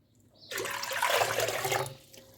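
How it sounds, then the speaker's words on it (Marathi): Water gushes into a pot in one short pour lasting over a second, close and clear, then trails off into quiet; water for rice-flour chakli dough. "मी दोन पातेले पाणी याच्यामध्ये घेते"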